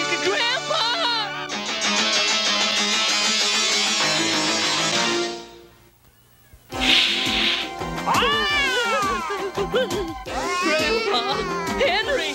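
Cartoon cat meowing and caterwauling loudly in long wailing yowls, breaking off briefly before resuming with rising, warbling cries amid frantic voices.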